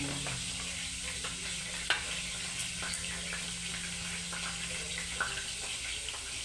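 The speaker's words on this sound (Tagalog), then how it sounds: "ipiprito ko na yung aking pork liempo" Marinated pork belly (liempo) frying in a pan, a steady sizzling hiss with faint scrapes and a couple of sharp clinks of utensils, close and continuous throughout.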